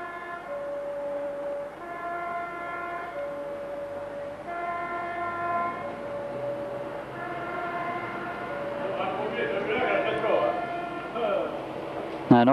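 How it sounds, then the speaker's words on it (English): A 1986 SNCV vicinal tram winding through a village between Courcelles and Gosselies sounds repeated sustained horn blasts, siren-like tones in three long bursts, over rumbling running noise that grows rougher and louder toward the end. "not an ambulance, that's the tram weaving its way through this village."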